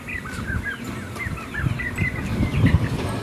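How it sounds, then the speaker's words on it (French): A flock of young chickens peeps and chirps steadily nearby, many high, overlapping calls over a low rumble of background farm noise. "Il y a les jeunes poulets"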